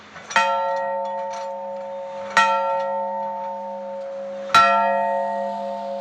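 A temple bell rung three times at slow, even intervals, each sharp metallic strike followed by a long sustained ringing hum that carries into the next, close and clear with no talking.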